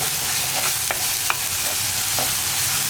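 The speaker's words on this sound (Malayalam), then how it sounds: "ഒന്ന് നന്നായിട്ട് ഇളക്കി ഇതിൻ്റെ ആ റോ ടേസ്റ്റ് ഒന്ന് മാറി വരുന്നത് വരെ ഒന്ന് ഇളക്കി കൊടുക്കുക" Rasam ingredients are stirred in a very hot pan, a steady oily sizzle broken by a few sharp scrapes of the spoon, close by, with no talking.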